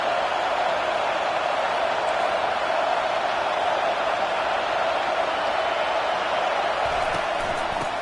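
In the NCAA 25 football video game, a stadium crowd keeps up a broad, steady roar for several seconds, a dense wash of cheering noise with no clear breaks.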